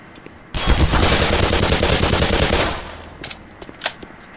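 Rapid automatic gun fire in Black Mesa, a loud, continuous burst lasting about two seconds before trailing off into scattered shots and clatter.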